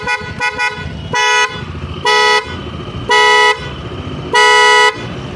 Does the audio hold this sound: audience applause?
no